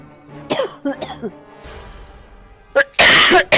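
A few harsh coughs close by, coming in short separate bursts with brief pauses between them.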